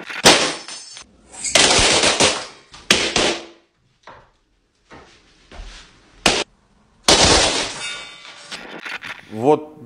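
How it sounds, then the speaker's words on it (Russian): Balloons popped in various ways, sharp loud bursts and crackling bangs in irregular clusters, some long noisy pops and one rising squeaky rub near the end, separated by short quiet gaps. "всеми возможными способами взрывает воздушные шарики"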